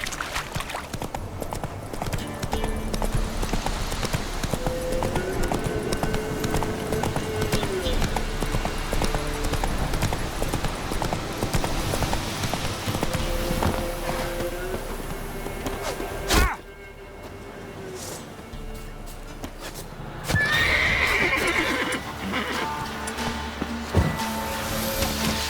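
Roach, the horse in The Witcher 3, clip-clops in a steady rhythmic gallop through most of the stretch, with game dialogue and ambient sound layered over the hoofbeats.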